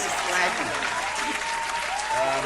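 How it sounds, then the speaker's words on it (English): A studio audience claps in a steady, dense wash of applause under overlapping talk, the clapping continuous and fairly close for the whole stretch. "Applause, please."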